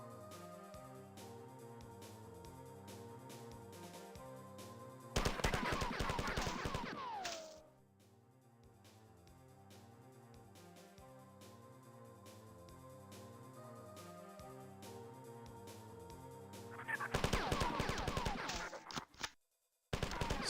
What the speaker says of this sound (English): I think I'm gonna switch it back over to the assault rifle and use that.